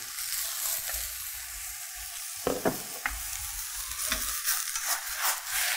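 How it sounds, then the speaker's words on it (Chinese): Water snowflake vegetable being stir-fried in a hot wok, a steady sizzle underlaid by scraping stirs and a few sharp clanks of the spatula, close and without talk. "好，我们把它拌炒一下哈"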